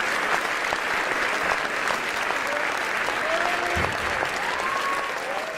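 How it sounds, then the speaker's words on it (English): A steady round of applause fills the scene, dense and continuous clapping at even loudness throughout, with a few faint voices underneath. "round of applause for the bank"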